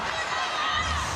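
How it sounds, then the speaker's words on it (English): A stadium crowd at a Black Ferns versus Canada women's rugby match roars in the tense final minutes, a dense, sustained wash of cheering with no break across the short stretch. "Listen to the crowd."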